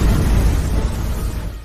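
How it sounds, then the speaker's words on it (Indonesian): A divine sword unleashes a burst of power in an animated fantasy story, a deep rumbling boom that swells loudly and slowly decays over under two seconds. "kembali menyentuhnya dan kembali membuat ledakan"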